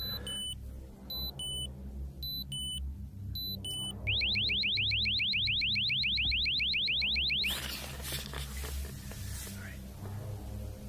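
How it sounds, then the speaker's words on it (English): Alarm going off on a van's bay door, first beeping in short repeated bursts, then a rapid warbling electronic whoop that sounds loud and steady for several seconds before stopping, followed by rustling and faint low talk. "But the alarm went off and I think it scared him off."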